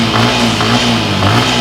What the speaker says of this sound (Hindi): साथ ही साथ इसका एग्जॉस्ट नोट सुनते हैं